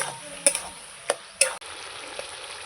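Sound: meat being sautéed with turmeric and salt in a pan

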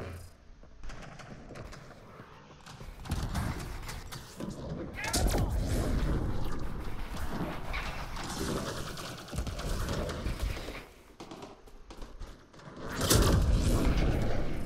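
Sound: explosions in video game

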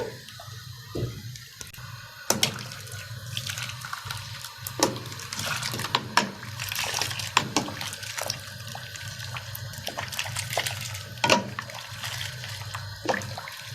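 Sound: hot water poured onto washing machine detergent drawer

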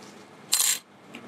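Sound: copper foil placed onto PVA plastic foil

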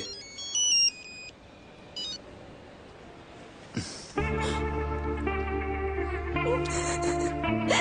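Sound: phone ringtone ringing

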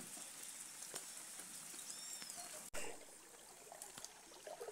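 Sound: small stream of water flowing after rain

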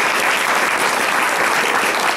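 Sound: audience applause for candidates at forum

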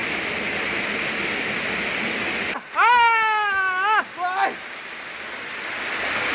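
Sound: water flowing at Ailmara waterfall

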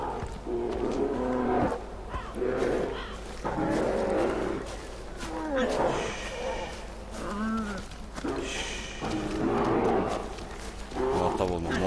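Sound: bear roaring in the video game Far Cry Primal

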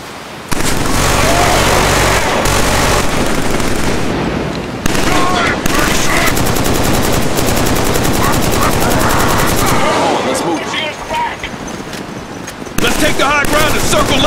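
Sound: suppressing machine gun fire in video game Killzone 3

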